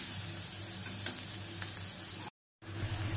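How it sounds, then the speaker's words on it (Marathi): Chopped onion fries in a pan at home with a steady, quiet sizzle and a couple of faint ticks from stirring, cut off by a brief silent gap before the sizzle returns. "हा कांदा पूर्ण आपण भाजून घेऊया पहिला"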